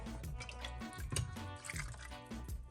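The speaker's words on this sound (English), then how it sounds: "So I'm going to add a little bit more broth." Broth is poured into a cooking pot of red chile chicken, giving close, uneven splashes and drips with soft liquid gurgles over a few seconds, and no talking.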